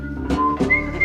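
A whistled melody rings out alone, a few sustained clear notes with brief pauses between them, moderately loud and close.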